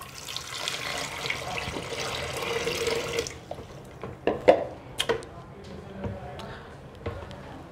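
Water poured from a heated pot into a Kangen water ionizer machine during deep cleaning, a steady broadband pour for about three seconds, followed by scattered drips, clinks and handling knocks.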